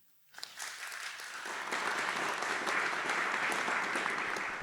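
A conference audience bursts into steady, full applause that swells quickly and holds, welcoming two speakers onto the stage.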